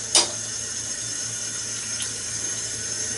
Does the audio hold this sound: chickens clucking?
no